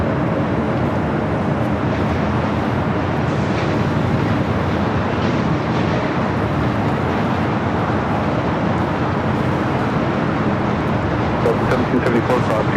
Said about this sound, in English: Next arrival on the north side is Delta Airlines Flight 501 coming in from Atlanta, Georgia. It's a 757 at 200.